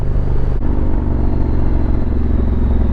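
A Honda Africa Twin motorcycle riding along country lanes, its engine a loud, steady rumbling drone heard up close throughout, with a brief clatter early on and no speech.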